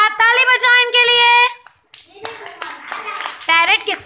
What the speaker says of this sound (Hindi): अरे वाह, ताली बजाओ इनके लिए।